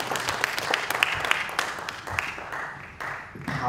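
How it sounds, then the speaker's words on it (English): Audience applause at a foundation's tenth anniversary event: a burst of many hands clapping that swells, then gradually thins and fades before picking up again at the end. "Please applaud them."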